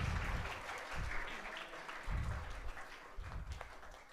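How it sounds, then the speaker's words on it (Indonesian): A congregation at a religious sermon in Indonesia claps in a dense, moderately loud wash that swells and eases in waves, with low thumps and a few sharper claps standing out over several seconds. "Tepuk tangan dong."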